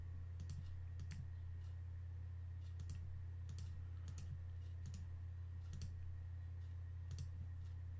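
Computer mouse clicking while tracing a selection with a polygonal lasso tool, a string of crisp, quiet single and double clicks spaced irregularly over a low steady hum, close and without talk.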